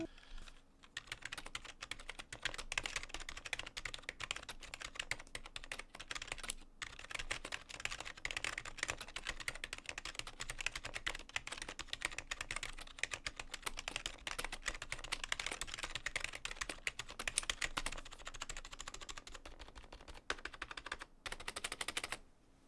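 Steady clacking keystrokes on a cheap Walgreens gaming keyboard, typed continuously at a quick uneven rhythm, close and fairly loud for about twenty seconds with only brief pauses.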